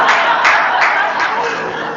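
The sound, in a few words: audience applause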